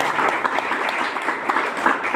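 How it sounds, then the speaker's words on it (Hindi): An audience at a health and wellness program in Ghazipur claps steadily to welcome new participants, a dense continuous wash of applause throughout with no words spoken. "दमदार ताली बनती है आपके स्वागत में"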